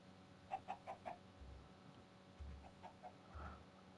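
A chicken in the video game Minecraft clucks in a few soft, quick bursts, fairly faint against a low background hum.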